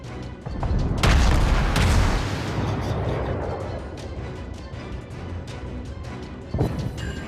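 High-explosive shells fired from a warship's guns in the World of Warships video game: a heavy, booming blast near the start that settles into a sustained, rumbling roar, with faint clicks and a smaller thump near the end.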